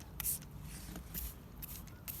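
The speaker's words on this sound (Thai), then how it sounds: "ตอนนี้เราก็จะผสม แบบฉีดสเปรย์นะครับ" A spray bottle mist applies date palm pollen to seedling-grown palm flowers, giving several short, faint hissing spritzes separated by pauses against quiet outdoor background noise.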